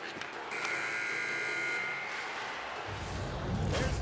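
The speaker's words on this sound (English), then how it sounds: "There's the buzzer, bringing period number 2 to a close" A hockey arena's end-of-period buzzer blares as a long steady electronic tone for over a second, then gives way to crowd noise and broadcast ambience.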